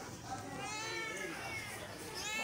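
A Munchkin cat gives a few drawn-out, wavering meows close by, with people talking over and around the cries.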